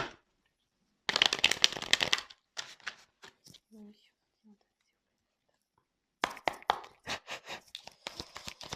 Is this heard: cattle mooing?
no